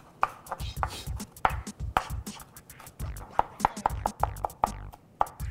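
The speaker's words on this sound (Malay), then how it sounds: "Kita cincang-cincang dia sikit. Sebab kita daging pun daging cincang kan. Jadi kita cincang jugalah bawang merah ni." Knife chopping shallots on a cutting board, a quick run of sharp, close taps in an uneven rhythm over a few seconds, heard without talk.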